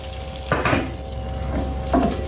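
Curried sausages and broccoli sizzle in a hot pan, a steady frying hiss under a low hum, broken by a couple of scraping stirs of a utensil, close up.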